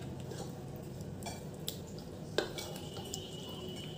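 Chicken lollipops being mixed with red food colouring in a bowl, soft clinks and scrapes of a utensil against the dish, a few light taps over a steady background hiss, no talking.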